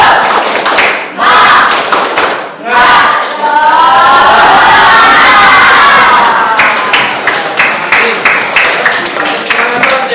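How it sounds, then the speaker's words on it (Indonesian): A classroom of students does a spirited rhythmic clapping chant, with loud shouting voices and a crowd-like burst of cheering. Claps and thuds come in quick runs, with brief pauses between. "coba kita tepuk semangat dulu"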